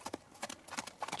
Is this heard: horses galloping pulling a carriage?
yes